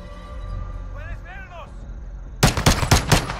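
Gunfire in the video game Modern Warfare: a rapid burst of several loud, close shots crackles in the second half, following game music and a brief voice.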